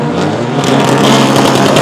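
A car engine roars steadily at a street run, the loud motor note holding and swelling slightly as it revs, near and continuous with no talk.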